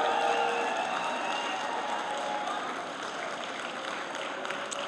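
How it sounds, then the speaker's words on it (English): Graduates' supporters at a BCIT convocation ceremony applaud in a large hall, a dense, steady wash of clapping with scattered cheers and yells that holds loud throughout. "give them a big round of applause"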